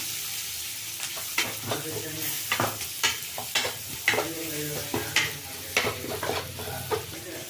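Curry leaves, crushed ginger and garlic fry with onion in a pan for a Kannada-style okra gojju, a steady close sizzle broken by repeated scraping stirs and clinks, with no talking.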